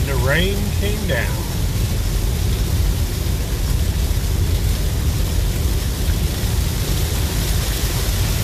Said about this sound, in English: Rain came down.